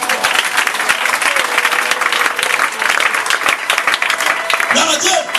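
Congregation in a church applauding steadily and loudly throughout, a dense continuous clatter of many hands with voices mixed in.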